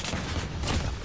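Gunfire in the mobile shooter Call of Duty Mobile, a dense, continuous burst of shots and booms filling the whole short moment at steady loudness.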